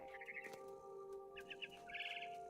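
A mother bird chirps in the video game What Remains of Edith Finch, several quick bursts of trilling tweets over a steady tonal game background hum, fairly faint.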